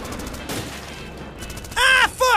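Gunfire in the Robot Wars video game, a short burst of sharp shots toward the end after a stretch of low busy game noise, loud and close with some vocal sound mixed in.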